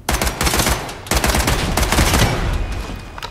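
Dense automatic gunfire in the tactical shooter game Lost Light, with loud rapid bursts running almost continuously and brief gaps between volleys.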